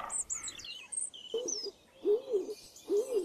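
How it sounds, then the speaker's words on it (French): European robin song in a park, a few clear warbling phrases interleaved with other birds' high chirps and calls, fairly close and moderately loud against a quiet outdoor background. "un rouge-gorge patiente sous la branche où son père semble lui donner une leçon de chant"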